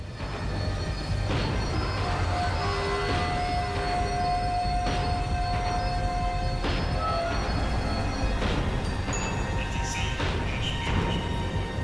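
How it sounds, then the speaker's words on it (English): Tram in Max Payne 3 slowing down: a steady mechanical rumble with rail and wheel noise, a sustained tonal squeal partway through, and intermittent clanks, continuous and fairly close. "The tram was slowing down, and I'd only just gotten on board."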